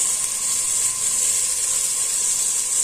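Tomatoes and green chillies sauté for chicken biryani in a pressure cooker pan. A steady, bright hiss of frying runs unbroken and fairly loud throughout, with no voice.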